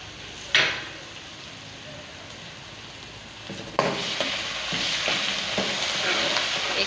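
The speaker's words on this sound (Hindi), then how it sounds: "अब मैं डालूँगी लहसुन अदरक का पेस्ट है ये" Garlic ginger paste hits a hot pot of oil with whole spices, including black cardamom, green cardamom and star anise, for chicken pulao. A sharp burst of sizzling is followed by steady frying, then a second louder sizzle with spoon stirring and scraping.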